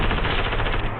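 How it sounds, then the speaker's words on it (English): Rapid automatic gunfire from marauders in the Fortnite video game fills a brief one-second burst, loud and dense with no talk. "Those marauders randomly shoot."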